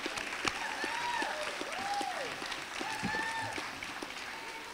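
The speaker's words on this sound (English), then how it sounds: "Big round of applause to these guys." Audience applause at an animal advocacy day event, moderate clapping from a crowd at middle distance, steady for several seconds, with a voice speaking over it.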